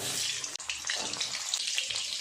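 Potatoes dropped into hot oil for a prawn kalia: close, crackling sizzle with bubbling spatters and a single sharp clack early on, continuing steadily with no talking.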